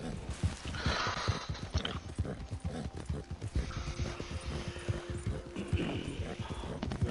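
Horse hooves galloping in the Red Dead Online video game, a fast, rhythmic clip-clop of hoofbeats throughout with a faint whinny, steady and fairly close.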